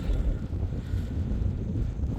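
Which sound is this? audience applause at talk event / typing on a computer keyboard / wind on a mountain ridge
wind on a mountain ridge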